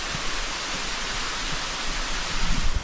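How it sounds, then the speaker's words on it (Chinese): Water crashing down at Houdongkeng waterfall in Yilan makes a continuous full rushing noise with a few soft low thuds, heard nearby and steady throughout without any talk. "是这个瀑布。"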